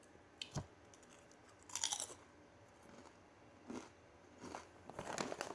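Indian chips flavoured with garlic and chili being crunched and chewed close up, several quiet crisp bites and crackles in a soft, otherwise silent setting.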